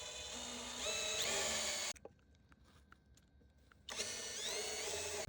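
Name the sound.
countersinking tool drilling a deck for bindings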